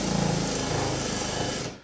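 A power drill or driver slowly runs screws into cabinet hinge cups while building a farmhouse kitchen, one steady whirring run that stops abruptly near the end, close and alone.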